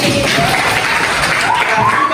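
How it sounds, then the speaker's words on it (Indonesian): Group applause from a training session room, a dense, steady wash of clapping hands lasting the whole moment at close range, with a voice or two mixed in underneath. "Oke, sama tepuk tangan."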